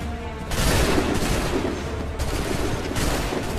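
Volley of musket and rifle gunfire in the video game Assassin's Creed III, a loud sustained fusillade bursting in after a quieter moment and rolling on with dense, overlapping shots.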